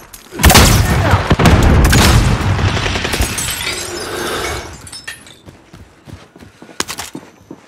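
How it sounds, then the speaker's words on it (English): In a Call of Duty Warzone match on Rebirth Island, a flashbang grenade bursts with a loud, sharp blast that breaks into a harsh shattering crackle and fades over several seconds, followed by softer game clatter. "using Flashbang."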